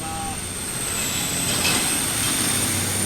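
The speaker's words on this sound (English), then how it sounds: "I'm out in the middle of nowhere, and I still have traffic going by." Highway traffic passing by in a rural spot, a loud continuous roar of heavy vehicles with a high tonal whine swelling and fading as one passes close.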